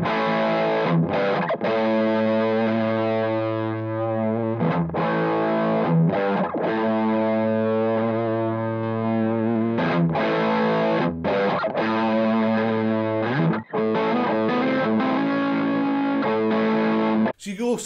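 Heavily distorted electric guitar through a Wampler Plextortion distortion pedal in vintage mode, playing sustained chords with a warm, saturated tone, broken by a few brief pauses between strums.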